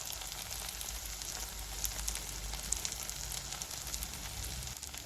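Green chillies and cumin powder fry in hot oil in a pan, giving a steady, close hiss of sizzling with faint crackles throughout and no voices.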